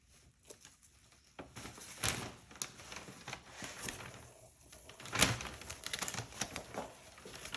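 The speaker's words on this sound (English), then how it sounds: "I really apologize for the paper cracking noise" Paper crackles and rustles while someone paints a large floral bloom composition, with irregular crisp bursts and scattered louder crinkles close by, and no talk.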